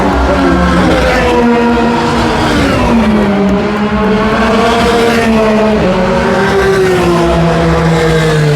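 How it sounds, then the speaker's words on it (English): Grand Prix of Long Beach race cars rumble past on a warm-up lap under a yellow flag, a continuous loud engine drone with pitch sweeping up and down as cars pass close by, steady and unbroken throughout. "Here they come by their first warm-up lap."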